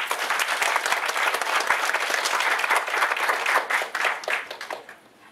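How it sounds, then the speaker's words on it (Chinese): An audience applauds after a talk at a workshop, sustained even clapping from a roomful of people, fairly close, tapering off at the end. "请各位再次以热烈的掌声"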